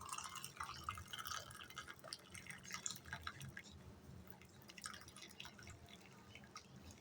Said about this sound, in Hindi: तो एक केवे को हम छान लेंगे।